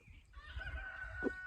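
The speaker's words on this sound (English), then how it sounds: "wild birds called chickens" Backyard chickens cluck and a rooster crows nearby, a short burst of layered calls over low ambient rumble.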